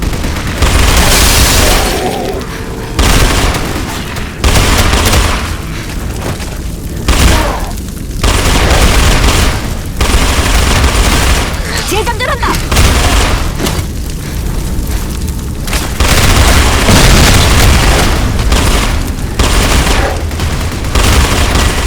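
In a video game battle to retake Bangkok station, dense bursts of gunfire and heavy booming explosions pound almost without pause, loud and close, with shouted voices briefly heard among them.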